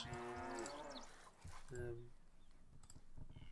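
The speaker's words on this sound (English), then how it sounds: "Lots of cow noises all the time." Cattle on farms in the strategy game Stronghold HD moo in a few drawn-out calls, with voices talking over and between them and some clicking.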